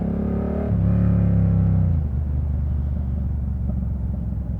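A 1000cc superbike ridden slowly on gravel, its engine a loud steady low rumble with a brief rise in pitch that settles back into a throaty idle-like drone.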